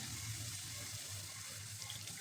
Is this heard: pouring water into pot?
yes